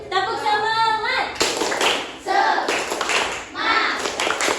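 A group of children in a classroom perform a rhythmic spirit clap, bursts of hand claps in a patterned sequence mixed with their chanting voices, close and lively.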